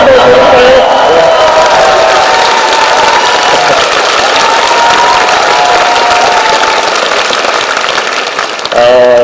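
A concert crowd at a political rally claps and cheers loudly and continuously, with whoops and shouting voices rising over the steady wash of applause before it tails off.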